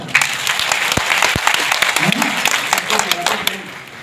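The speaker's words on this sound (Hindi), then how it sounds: "तो जोरदार तालियां हो जाए" Loud audience applause fills a Jaipur program hall, dense clapping throughout with voices talking over it.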